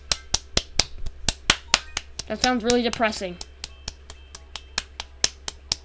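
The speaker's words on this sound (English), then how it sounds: "I'm clapping for some reason" One person's hand claps, sharp and close, in a steady rhythm of roughly twenty claps, with a short spoken remark in the middle while the clapping continues.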